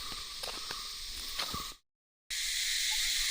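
A shrill, hissing drone of cicadas in the Nelliampathy forest runs steadily, cuts to silence for about half a second, then returns louder, with no voices.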